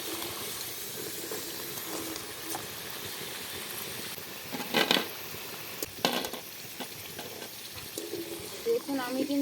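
French fries sizzle in hot oil in a kadai, a soft steady crackle heard under a voice, with a few louder clattering bursts as the fries are stirred and lifted out.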